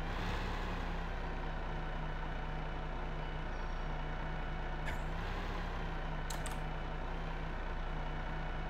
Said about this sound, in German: Da sollen wir den LKW auswählen.